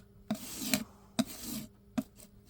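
A spreading tool scrapes filler into holes in a van wall, making three rough, rasping strokes at a slow, uneven pace, each beginning with a sharp catch, close up with no voices.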